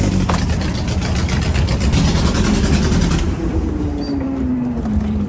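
An old dune buggy engine runs up close in a driveway with a loud, rough low-pitched chugging idle and a slight rise in pitch toward the end.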